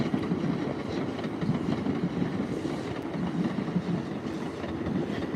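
A Narita Express train rolls through Tokyo Station with a steady, continuous rumble and faint rhythmic wheel clatter heard from a distance, no voices over it.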